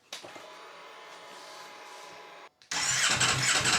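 A Ducati Streetfighter V4S motorcycle in a garage: a starter whirs for a couple of seconds, a short pause follows, then the engine catches and fires into a loud, close, roaring idle.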